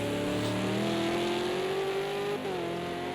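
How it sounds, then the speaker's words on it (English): V8 Supercars in a racing video game take a tricky uphill corner, engines droning loudly and steadily as they downshift to second gear, with a brief dip in revs near the end. "You can hear the cars almost stall out."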